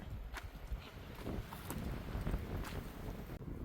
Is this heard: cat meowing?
no